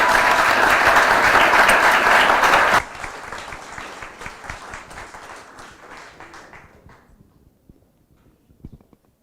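Loud audience applause at a conference in Tallinn, Estonia, dense and sustained for about three seconds, then dropping to lighter scattered clapping that thins out and fades to near silence.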